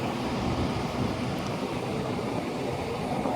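A helicopter spraying herbicide over Paynes Prairie gives a steady, broad rushing roar of engine and rotor noise, continuous and fairly close, with no talking.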